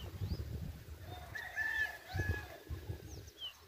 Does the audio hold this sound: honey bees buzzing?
no